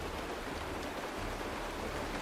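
Steady rain falls in the video game Honkai Star Rail, a soft, dense, even hiss of drops with a low rumble underneath that continues without any break.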